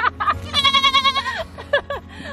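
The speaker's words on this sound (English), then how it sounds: "This goat doesn't want to be filmed" A free-range goat on a mixed farm bleats in a long wavering call right after a brief voice, with a couple of shorter bleats following, close and fairly loud.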